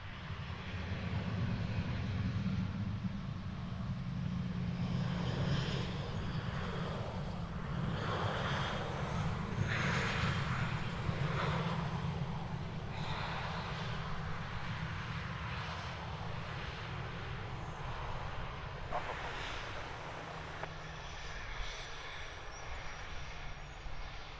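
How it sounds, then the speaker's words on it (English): A Dash 200 turboprop airliner with clamshell thrust reversers roars continuously at an airport, a loud, steady engine drone mixed with wind noise, without any voices. "Nice clamshell reversers on these Dash 200s."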